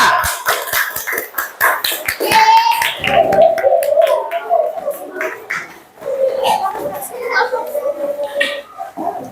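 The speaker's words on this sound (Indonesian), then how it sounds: "Kita kasih tepuk tangan untuk kelompok 3" A classroom of students gives scattered, quick applause for a presenting group, dense close claps at first that thin out as voices start talking over them.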